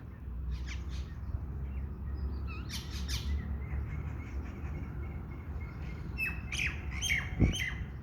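Small birds squawk and chirp in a noisy outdoor setting, with scattered short calls rising above steady low rumble and a louder burst near the end.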